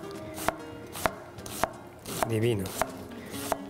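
An onion chopped finely with an onion knife on a board, six evenly spaced sharp knocks at a slow, steady pace, with a brief spoken word partway through.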